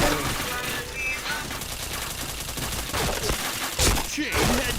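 Rapid bursts of gunfire and headshot impacts in the first-person shooter game Point Blank, dense and loud throughout with a sharper burst near the end, over faint background voices.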